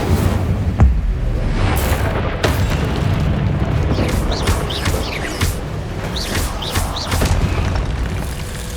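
The Incendio fire spell is cast in Hogwarts Legacy, a heavy booming burst followed by a roaring, crackling rumble and scattered sharp pops, loud and close throughout.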